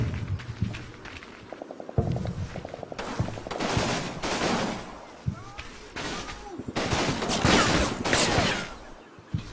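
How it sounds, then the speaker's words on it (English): Gunfire crackles back and forth in a Combat Mission: Battle for Normandy battle, with repeated bursts of rifle and machine-gun fire and louder volleys, some near and some distant. "Okay, we're shooting back."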